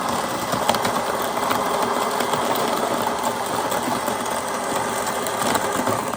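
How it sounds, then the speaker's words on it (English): A Delonghi Magnifica S coffee machine's built-in grinder running, a loud steady whirring, buzzing drone that stays constant and close throughout, with no talking. "The grinder in the Magnifica S is effective, but it's quite loud, especially in the early morning when the house is still quiet."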